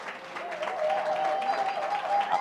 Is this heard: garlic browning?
no